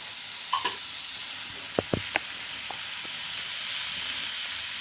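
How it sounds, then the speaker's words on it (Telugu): A carrot and beans fry stirred now and then in a hot pan, a few quick spoon scrapes and taps over a steady, even sizzle that carries on alone after the stirring stops. "అప్పుడప్పుడు ఇలా కలుపుతూ ఉండండి."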